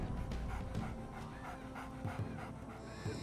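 A large dog pants rapidly and rhythmically during a search and rescue callout in British Columbia, close but quiet, with short irregular breaths over faint background noise.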